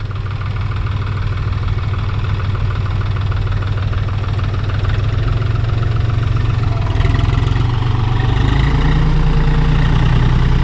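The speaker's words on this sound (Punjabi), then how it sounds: "ਵੱਡਾ ਟਰੈਕਟਰ ਇਹਦੇ ਕੋਲੇ ਹੀ ਆ" A large tractor engine idles at a rice farm, a steady, loud, low rumbling drone with a faint knocking pulse, close by and continuous throughout.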